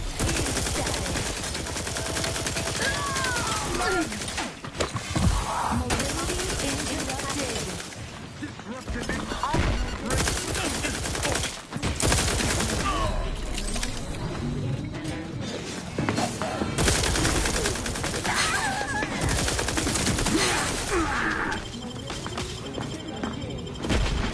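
Outer Worlds 2 combat on very hard difficulty: constant heavy gunfire and impacts form a dense, loud, continuous wall of noise, with voices faintly mixed in.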